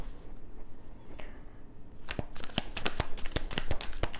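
Tarot cards rustle and slide as they are shuffled and drawn during a reading, soft quiet handling at first, then a busier run of close crisp flicks and snaps.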